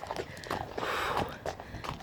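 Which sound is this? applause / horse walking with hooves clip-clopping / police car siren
horse walking with hooves clip-clopping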